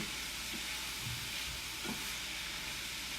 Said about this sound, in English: We're sauteing the onions